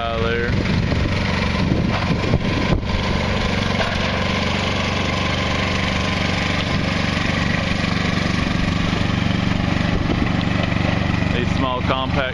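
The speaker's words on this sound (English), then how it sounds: "Small compact tractors are real nice to use." A Kubota BX compact tractor's small engine runs steadily at high throttle, a loud, constant buzzing drone that stays even throughout with no pauses.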